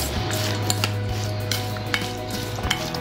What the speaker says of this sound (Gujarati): હવે આ બધું મિક્સ કરી લેવાનું.